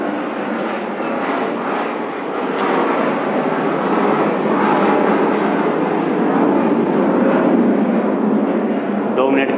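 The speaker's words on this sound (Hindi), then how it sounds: "हेलीकॉप्टर जा रहा है" A helicopter flying overhead makes a loud, steady broadband roar of rotor and engine that lasts the whole stretch and swells slightly as it passes. A voice talks over it.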